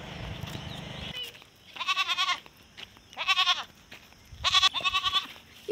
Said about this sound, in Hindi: ये देखिए गाइस छोटा मोटा बकरी को